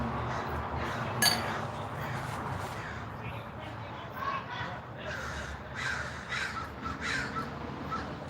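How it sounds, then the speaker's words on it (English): Crows caw repeatedly outdoors around a house, clear against steady background noise, with faint voices and a brief clink partway through. "Mama Crow."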